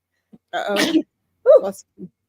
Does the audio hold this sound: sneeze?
yes